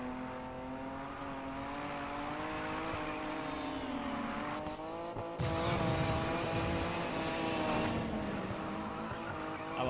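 A racing car's engine in Need for Speed Payback drones steadily with shifting pitch as it accelerates, loud and close, with a brief tire scrub and a surge partway through.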